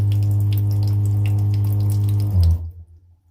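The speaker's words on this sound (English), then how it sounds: "And the tap's working." Water runs steadily from a tap in a truck camper over a low water pump hum, then cuts off and the hum fades to quiet.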